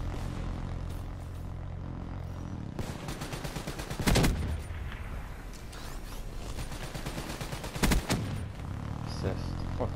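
BRM rifle gunfire in the video game Black Ops 3 rings out as rapid bursts of shots, with two especially loud, sharp reports standing out above a steady backdrop of game noise and distant firing.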